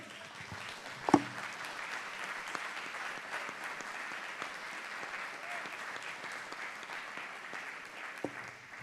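A church congregation applauds during a worship meeting, a moderate and even patter of clapping that carries on throughout, with a sharp knock near the start and a brief voice near the end.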